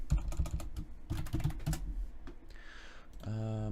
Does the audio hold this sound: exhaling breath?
no